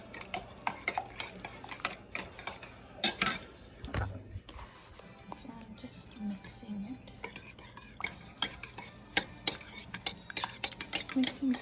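A spoon stirring milk in a mug for hot cocoa, with quiet, irregular clinks and scrapes of metal against the cup sounding close by.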